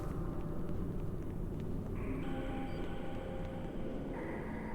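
A train passes in the video game Hitman: Codename 47, a continuous broad rumble and rolling roar that stays loud and steady throughout, with faint tonal whines shifting partway through.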